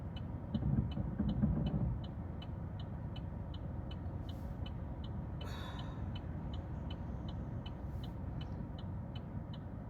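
A black car passes on a street, heard as a steady broadband road rumble throughout, with a louder swell near the start and a faint periodic ticking underneath.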